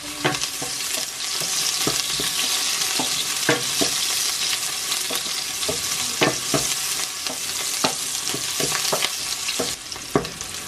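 Onions frying in hot oil in a home kitchen, a dense steady sizzle with repeated sharp scrapes and clacks of a spoon stirring the pan, close and loud with no talking.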